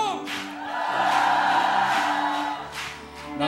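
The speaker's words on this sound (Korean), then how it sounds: "함성!" Shouting from a church congregation right after a wedding pronouncement, a loud sustained crowd roar with whoops and cries that swells for about three seconds and then eases off.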